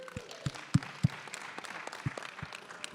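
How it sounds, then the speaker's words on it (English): Hands clap sharply while one of them holds a microphone: a handful of loud, close, uneven claps picked up through the mic, with a person talking around them. "Clapping with a microphone in my hand."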